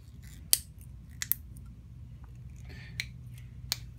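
Material being cut in half for a makeshift DIY pulley, a few sharp isolated snips or cracks spread out over low background rumble, close and moderately quiet.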